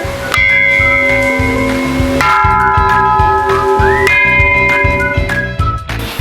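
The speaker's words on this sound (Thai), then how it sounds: "เรามาตีระฆังกันนะคะ" A temple bell rings out with sustained metallic tones, struck again around two and four seconds in, each strike layering fresh ringing over the fading hum.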